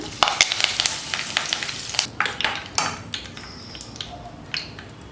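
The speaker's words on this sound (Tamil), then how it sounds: "இப்போ கடைசியாக கொஞ்சம் கருவேப்பிலை எடுத்து பொரிச்சு எடுத்துக்கிறேன்" Curry leaves fry in oil for a Diwali batch of omapodi, giving a crackling sizzle with sharp pops and spoon scrapes against the pan, close and fairly loud, with no talk.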